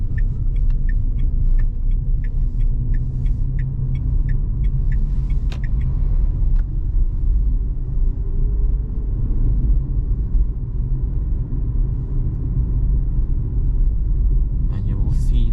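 A 2023 Dacia Spring Extreme electric car, 65 HP, driving on the road at night gives a steady low rumble of tyre and road noise inside the cabin, with a series of soft ticking chimes early on.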